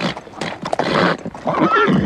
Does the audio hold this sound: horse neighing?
yes